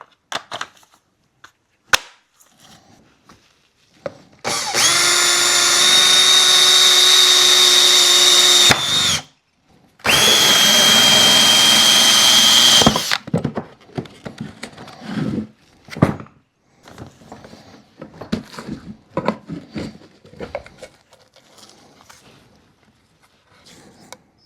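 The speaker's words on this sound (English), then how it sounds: "I'm going to drill a hole here, the size of the hose" A power drill bores a hole sized for a water-line hose while a DIY strawberry planter is built in rural Japan: two long, loud, steady whirring bursts, followed by scattered clattering and handling knocks.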